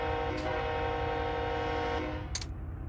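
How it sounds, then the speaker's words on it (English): Steady locomotive engine drone from a freight train with distributed power units pulling away in the Run 8 train simulator game on the route to Barstow, continuous and loud with two brief hissing bursts, no talking. "Okay, so now we are moving."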